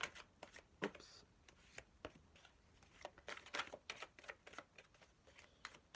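Angel tarot cards shuffled by hand in a quiet room, a run of quick crisp riffling bursts and soft slaps that come in irregular clusters over several seconds, fairly close and faint, with no talking.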